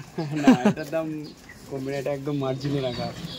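Pigeons in a loft in Madhyamgram, including Kaldum-tailed birds, coo in low, rolling phrases while someone talks over them throughout.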